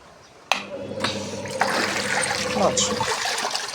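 A washing machine filled with water and detergent starts up to wash a double bed cover, its low motor hum and churning, splashing water running steadily from about half a second in.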